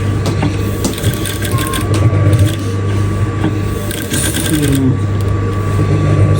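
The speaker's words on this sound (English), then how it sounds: "and sew gently. You don't have to rush this." A sewing machine stitching fabric for decorative cut-out work on dress sleeves and hems, running in a steady close mechanical whir with rapid needle ticking, loud and continuous with no talk.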